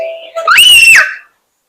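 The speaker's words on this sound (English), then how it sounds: "I might have to end this here if she's shrieking." A young child lets out a single shrill shriek, loud and close, rising sharply, holding for about half a second and then trailing off into silence.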